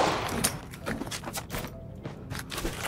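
Enemy gunfire in a looting-focused shooter video game, bursts of sharp shots and thuds spaced irregularly, fairly quiet and mixed with other in-game noise.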